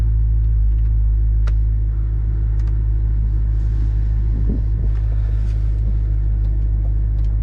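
An Audi RS4 engine with its exhaust valves open, running at about 4,000 RPM in sport mode, gives a steady, loud, deep rumble that holds throughout with no talking.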